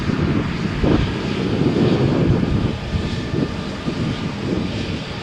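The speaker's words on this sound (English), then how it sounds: "takeoff for Air Nostrum flight operated with a ATR 72600" An Air Nostrum ATR 72-600 turboprop accelerates down Runway 13 at Malaga Airport on a stormy morning, a steady loud engine roar with broadband rumble and wind buffeting the microphone throughout.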